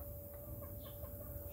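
Backyard chickens cluck in soft, brief calls over a low background hum, faint and at a moderate distance.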